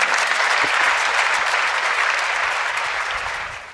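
Dense, loud crowd applause at a Hindi poetry gathering, greeting a poet as he is called up; a continuous wash of clapping that holds steady and begins to taper toward the end.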